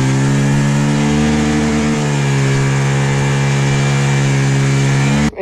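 A motocross motorcycle engine runs in the snow, a loud, steady close drone with a constant pitch that holds for several seconds and cuts off abruptly at the end.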